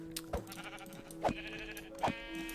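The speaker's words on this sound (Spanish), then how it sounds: "Otra oveja." Sheep in Minecraft bleat three times, short wavering baas spaced about a second apart over a quiet background.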